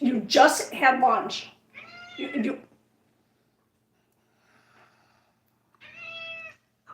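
A pet cat asking for food gives a clear, close meow after someone speaks, then another meow comes alone after a silent pause.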